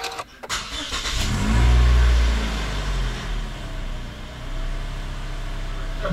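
A 2019 Toyota RAV4 engine cranks and catches with a low rumbling roar, then settles into a steady idle.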